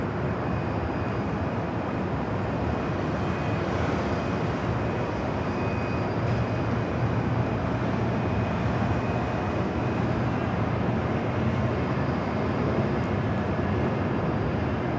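Delta Airlines Boeing 737-900ER jet lining up on runway 24 left at LAX, a steady broad engine roar and rumble holding at constant loudness throughout, with no talk.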